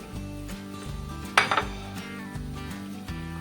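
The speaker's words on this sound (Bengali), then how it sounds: "আদা রসুনের পেস্ট ধনে গুঁড়ো লাল লঙ্কা গুঁড়ো কাশ্মীরি লঙ্কা গুঁড়ো জল দিয়ে" A spoon stirs ginger-garlic paste, coriander powder, red chilli and Kashmiri chilli powders with water in a bowl. It makes a short cluster of clinks and scrapes near the middle, over steady background music.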